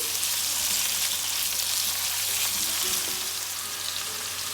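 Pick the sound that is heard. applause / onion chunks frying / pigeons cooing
onion chunks frying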